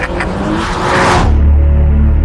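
Twin-turbo 3-litre Noble M12 GTO sports car engine roaring close by, rising into a loud, deep, sustained rumble as it accelerates, with no voices over it.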